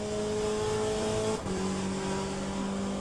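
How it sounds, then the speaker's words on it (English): Engine drone of LMP prototype race cars approaching in the Le Mans Ultimate racing game, a steady high whine with a brief dip and pitch shift at about 1.4 seconds as the cars close in, loud and continuous. "So 2 more LMPs are coming."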